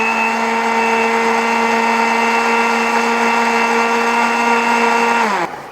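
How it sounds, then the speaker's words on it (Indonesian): A blender runs with a steady, high-pitched motorized whine that holds constant for several seconds, then abruptly winds down and stops. "kita blender sampai halus"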